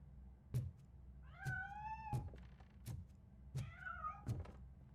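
A cat meows twice in the video game RoboCop: Rogue City, drawn-out plaintive cries set among several dull heavy thumps like footsteps, all fairly quiet with no talk.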